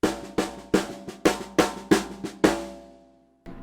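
Seven sharp drum strokes in a linear fill land in quick succession, each with a bright attack and short decay, before the kit rings out to near silence and one more hit comes in at the end; no talking.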